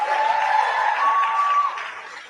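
Studio audience applauding and cheering during a live interview, a steady dense wash of clapping and crowd noise holding for a couple of seconds before easing slightly.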